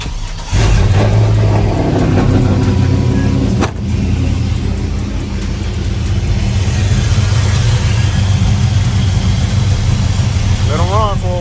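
A 1978 Chevy engine cranks and fires up, then settles into a loud, steady near idle with a rough mechanical rumble that runs for the whole stretch, and a voice is heard briefly.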